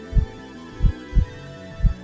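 A heartbeat sound effect: four deep, muffled thumps at an even, slow pace over a low steady hum.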